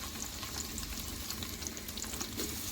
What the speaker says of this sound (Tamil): எண்ணெய் காஞ்சிருச்சு, வெங்காயம் போட்டுக்கலாம்.